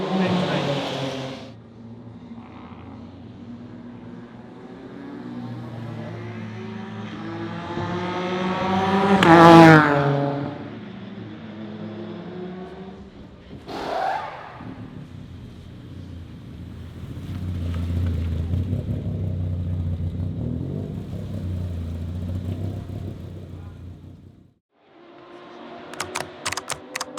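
A Ginetta G55 race car heads out for free practice at Spa-Francorchamps, its engine note rising through sharp upshifts and a howling pass close by, then a steadier rumble trailing off before a brief burst of crackle.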